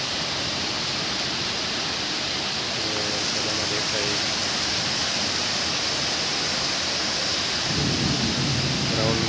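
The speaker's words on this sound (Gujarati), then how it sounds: "જો વીજળી થાય છે અને પવન ને જોરદાર વરસાદ" Heavy monsoon rain pours in a storm in Pune, with gusting wind and thunder making a loud, dense wash of noise. A deeper roll rises near the end, and a voice speaks briefly over it.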